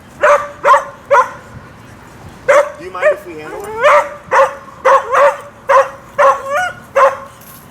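A reactive, over-stimulated collie barks in repeated sharp yips with whimpering whines between them, close and loud, while a person talks quietly through the bursts.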